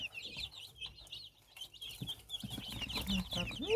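Several chicks clucking and peeping nearby in short, irregular bursts among dill, with soft rustling and a brief voice near the end.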